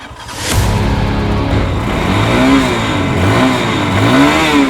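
One of the cheapest scrambler motorcycles sold on Amazon revs hard and close by, its engine note rising and falling in repeated swooping sweeps before a drag race, with no talking over it.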